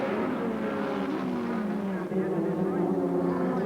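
Touring race cars from the 1988 Australian Touring Car Championship round at Lakeside circuit roar past in a steady, sustained engine drone with shifting pitch, heard under continuous race commentary.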